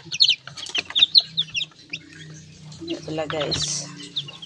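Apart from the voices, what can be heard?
chickens clucking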